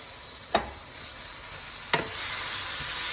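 Chicken liver sizzles in a pan with onions, herbs and spices, a steady frying hiss broken by two sharp stirring scrapes, close and alone without voices.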